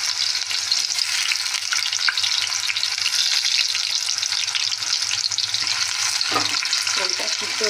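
Food frying in hot oil in a pan, a continuous loud sizzle with occasional stirring scrapes and clinks near the end, no voices over it.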